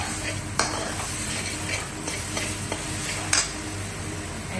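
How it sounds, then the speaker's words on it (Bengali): Rohu fish curry being stirred in a pan, a steady sizzle and simmer under a few distinct spoon clinks and scrapes against the metal, close and without talk. "এখন একটু নাড়াচাড়া করবেন।"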